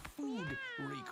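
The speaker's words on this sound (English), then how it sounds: "I got a cat that made squeaky noises." A cat gives a short squeaky meow, a brief close, faint rising-and-falling call lasting about a second.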